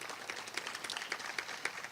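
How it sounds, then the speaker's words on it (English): Audience applause at a student reception for community college students transferring to HBCUs, a quiet, steady patter of clapping with a few sharper claps standing out, fairly distant and without talk. "Can we give September a round of applause?"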